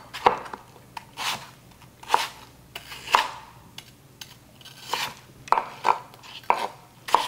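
Knife chopping apple into chunks on a cutting board, a dozen or so sharp crisp thuds at an uneven rhythm, close and clear with no talk.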